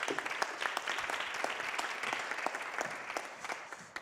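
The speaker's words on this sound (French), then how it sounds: "On applaudit Roxane." A seated audience at a French media conference claps for a guest joining the stage. The applause is moderately quiet and steady, with a continuous patter of many hands and no voices over it.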